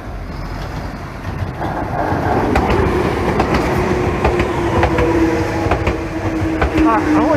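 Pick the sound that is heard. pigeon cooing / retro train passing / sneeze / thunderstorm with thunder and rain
retro train passing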